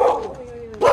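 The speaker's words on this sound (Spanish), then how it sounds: "nos ataca un perro" A dog in Pai, Thailand gives two short, sharp barks, close and loud, with a brief thin whine between them.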